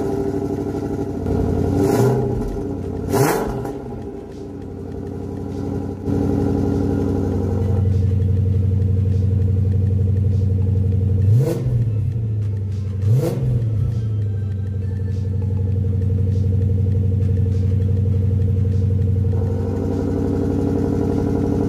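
A Lexus LS400 with a rear-mounted turbo engine and loud exhaust revs hard in sharp bursts, two blips early and two more later, over a steady loud idle drone.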